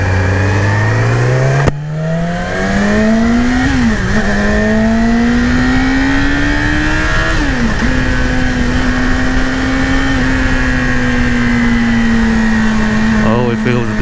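A 2018 Yamaha YZF R6 sport bike engine hums loud and close on a demo ride, pitch rising and dipping with throttle and gear changes, with steady wind rush.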